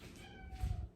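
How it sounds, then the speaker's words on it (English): A cat gives a single drawn-out meow, close and fairly quiet, with a low thump underneath toward the end. "Oh gosh, what is wrong with this cat?"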